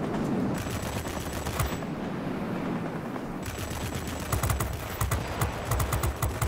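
Warplane machine guns in World of Warplanes fire in rapid rattling bursts, loud and close, with a brief lull in the middle before the chattering fire resumes in quick stuttering volleys.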